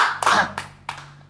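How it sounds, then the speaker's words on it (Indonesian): Several claps from a small audience thanking a guest, three separate bursts of hands coming close together and then dying away quickly, fairly close and moderately loud. "Ayo bantu tepuk tangan dulu dong."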